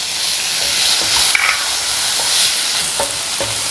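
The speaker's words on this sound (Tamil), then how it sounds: "தக்காளி நல்லா வதங்கட்டும்." Tomatoes frying in a pan after sliced onions have softened, with a steady, close sizzle and hiss and a few soft stirring knocks across the whole stretch, no voices.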